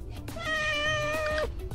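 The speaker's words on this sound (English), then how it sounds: "Look at this cat." A cat gives a single clear, drawn-out meow close by, rising and then dropping at the end, heard alone without talk.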